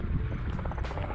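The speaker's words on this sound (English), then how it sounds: "Got a chopper coming right overhead." A helicopter passes overhead at a national park in the South Dakota badlands, a faint, steady rotor rumble heard from a distance in open air.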